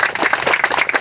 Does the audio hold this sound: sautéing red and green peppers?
no